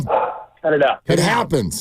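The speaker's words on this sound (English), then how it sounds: "the dog who was, again, barking in the middle of the interview" A pet dog barks several times in quick bursts indoors, loud and close, with a person talking to it between and over the barks.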